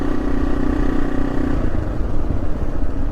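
A motorcycle, a fairly unique bike said to come from Portugal, rides a dirt trail in South Dakota with a steady, close, loud engine drone and rough clattering texture throughout.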